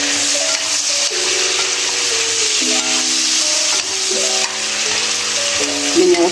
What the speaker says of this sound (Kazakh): Етіміз әдемі болып қызарып қуырылып жатыр.